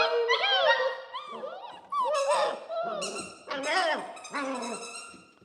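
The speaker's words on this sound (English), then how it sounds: "They love the squeaker sound, my goodness." Rubber squeaky dog toy squeaked repeatedly beside Goldendoodle puppies, high wavering squeals in quick bursts and short runs, loud and close, mixed with puppy whimpers and someone talking softly.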